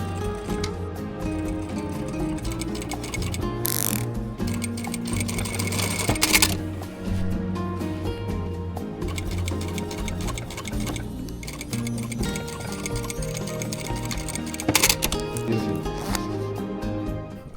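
A sewing machine runs steadily while stitching a backpack in Japan, producing a continuous close mechanical whir and rapid needle ticking, with brief louder clacks now and then and no talk.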